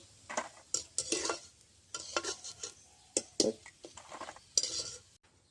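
Fried chicken pakoras are lifted out of a pan of hot oil, with a metal spoon clinking and scraping against the pan in repeated short bursts over a soft sizzle, close and without talk.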